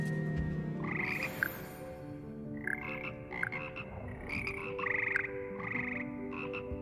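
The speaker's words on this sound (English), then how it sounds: "Frog Choir." In the video game Hogwarts Legacy, a frog choir croaks out a song: repeated throaty croaks in a bouncy rhythm over sustained musical tones, moderately quiet and with no talking.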